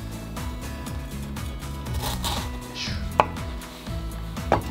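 A kitchen knife slices through a melon, giving faint, scattered cuts and a couple of sharper snaps, all under steady background music.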